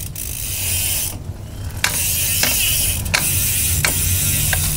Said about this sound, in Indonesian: kalau saya bawa goes pas nggak saya pedal gitu kan, bunyi jangkriknya keluar